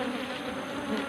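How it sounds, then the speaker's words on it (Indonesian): Worker bees crowd the entrance of a honey hive, making a dense, continuous close-up buzz that stays steady throughout. "banyak banget lebah-lebah pekerjanya yang ngantri, yaitu ingin masuk lagi ke dalam lubangnya"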